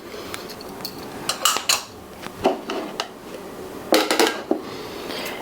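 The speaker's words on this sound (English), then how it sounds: "You want to just use a fork just to kind of incorporate it all together." A fork mixes banana bread crumble topping ingredients in a bowl, giving close, irregular clinks and scrapes in quick bursts with short pauses between them.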